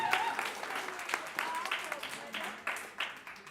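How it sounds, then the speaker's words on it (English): Scattered applause at a primary school speech contest for the learners of one division, a modest round of hand claps heard beneath talk from people nearby. "Give them a round of applause, please."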